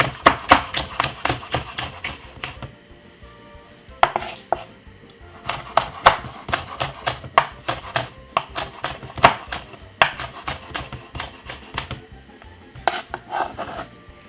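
A knife chops green pepper on a cutting board in quick bursts of sharp, close taps, with short pauses between rounds of chopping.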